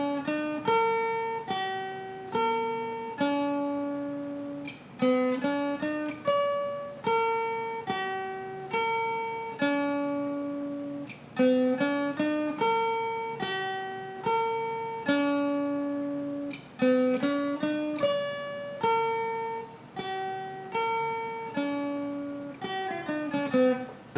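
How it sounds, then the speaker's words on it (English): Guitar playing a riff, a steady repeating pattern of picked notes cycling through the same short phrase several times, clear and moderately loud with no talking. "So all together it sounds like this."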